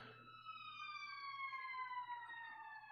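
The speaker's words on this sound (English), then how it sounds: "What's going on? Sirens?" An emergency vehicle siren sounds faintly in the distance outside, heard from indoors, its tone sliding slowly downward, with quiet background hum.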